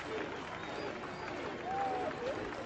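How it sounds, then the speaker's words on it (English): Spectators at a cheese rolling race on a steep hill clap amid a noisy outdoor crowd, with murmuring voices and the odd whistle or shout; the clapping blends into the general hubbub rather than standing out as distinct beats. "Now there's a slow clap at the top"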